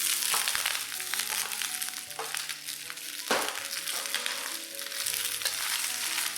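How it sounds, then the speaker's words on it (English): Chinese cabbage stems stir-fry in a hot pan, sizzling steadily while a spatula scrapes and tosses them in repeated strokes, close and continuous with no talking. "Stir fry these for about a minute or so"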